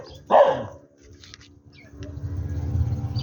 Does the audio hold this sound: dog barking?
yes